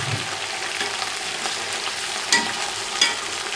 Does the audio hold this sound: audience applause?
no